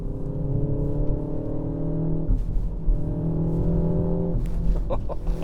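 A 2025 MINI Countryman JCW accelerates hard from inside the cabin, its engine droning with layered harmonic tones that shift in pitch as it pulls, loud and continuous throughout.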